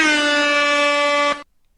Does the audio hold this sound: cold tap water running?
no